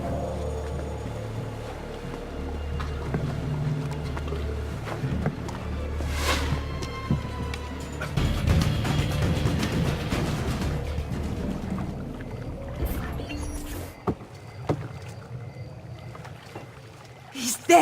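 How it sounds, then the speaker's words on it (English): Oars dip and slosh as a boat is rowed through water in Assassin's Creed II on PS4, a soft continuous lapping at moderate volume with game voices and ambient city sound mixed in. "We'll go the rest of the way in the boat"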